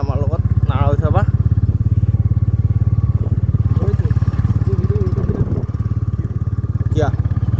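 A motorbike engine throbs loudly and steadily up close while being ridden, its low pulsing drone running throughout as people speak over it in snatches.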